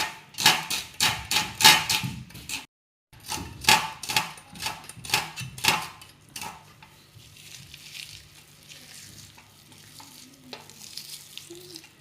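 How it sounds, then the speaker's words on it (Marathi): Onion being finely chopped with a knife for a chicken masala, a rapid run of sharp close taps on a board, a brief pause, more chopping, then quieter scattered sounds. "तुम्हाला हा ही कांदा मी कापून दाखवते"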